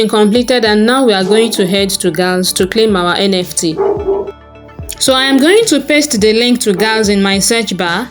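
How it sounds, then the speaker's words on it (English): A dog barks and yips intermittently in an indoor setting, the short sharp barks mixed in under continuous close talking from a voice, with a brief quieter pause midway. "I apologize for the dog that is barking."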